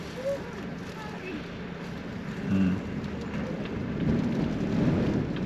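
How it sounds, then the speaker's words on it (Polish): Rain falls steadily in mountainous country beside a lake, making a soft, constant hiss with low rumbling underneath, while people talk over it. "I zaczyna padać jeszcze."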